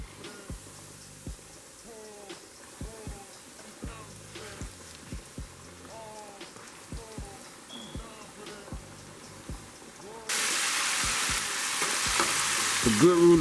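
Chicken pieces coated in egg white drop into hot oil for deep frying, giving a steady crackling sizzle with scattered pops and clinks, and a much louder, denser hiss swells up near the end as more meat goes in.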